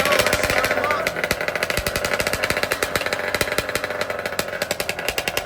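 Two-stroke drag racing engines rev at a drag racing nationals event, a loud, harsh, rapid staccato crackle of repeated bursts that continues without letup and sounds close.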